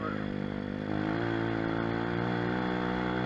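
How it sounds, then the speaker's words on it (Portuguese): A mini moto pit bike engine revs up and pulls away, a steady buzzing drone that rises in pitch and grows louder after the first second, with a faint voice underneath. "Arrancada da motinha?"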